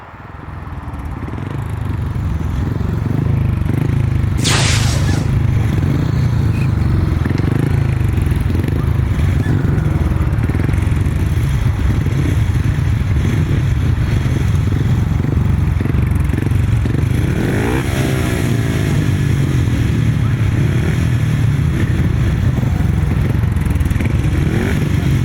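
500cc solo grasstrack motorcycles race at a Midshires grasstrack meeting, a loud continuous engine roar that builds in the first seconds and holds steady, with a brief sharp rising whine partway through and a pass-by sweep near the end.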